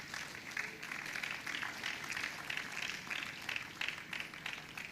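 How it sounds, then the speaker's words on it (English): Faint applause from an audience welcoming a speaker walking onto a stage, a continuous wash of clapping without breaks or speech. "Please, can we put our hands together for her?"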